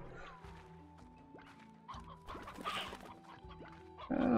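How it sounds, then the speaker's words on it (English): A hen clucks in the video game Slime Rancher, short soft clucks scattered over game music and ambient sounds, fairly faint, with a louder burst near the end. "What are you? You're a hen."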